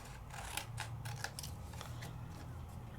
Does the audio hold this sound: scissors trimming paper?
yes